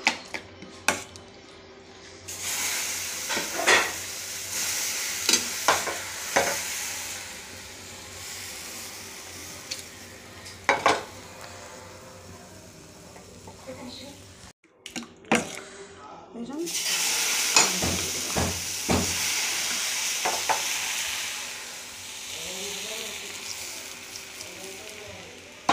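Vegetable chilla batter sizzles steadily in a hot pan, a continuous frying hiss broken by clicks and scrapes of a spatula or utensil, with a brief gap partway before the sizzle resumes loudly.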